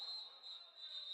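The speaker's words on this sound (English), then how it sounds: "A whistle." A referee's whistle sounds at a college basketball game, one shrill, sustained blast lasting about a second, clear above the muffled arena background.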